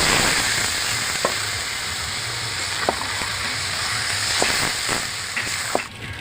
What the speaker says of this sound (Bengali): আমি এবার এই মশলার জলটা দিয়ে দেবো।